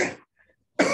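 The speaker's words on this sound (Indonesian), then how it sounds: "Saya batuk." Two short, rough coughs from one person during a school accreditation Zoom meeting with parents, one trailing off at the start and a sharper one after a brief silence, both close and fairly loud.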